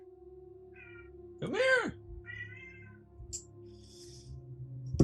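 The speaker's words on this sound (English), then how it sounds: "here comes the kitty" A house cat meows several times, one long loud rising-and-falling meow followed by shorter softer calls, while a person nearby calls to it.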